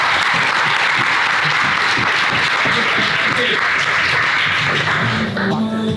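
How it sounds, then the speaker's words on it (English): Sustained round of applause from a small group of colleagues in an office setting, loud and steady throughout with voices talking underneath near the end. "I'm just going to end on a round of applause for you, lads."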